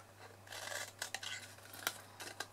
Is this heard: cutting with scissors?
yes